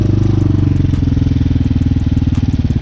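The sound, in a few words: Hawk 250cc dual sport motorcycle engine warming up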